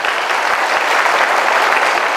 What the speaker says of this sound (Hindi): आप लोग एक बार जोरदार ताली अपने लिए बजा लीजिए।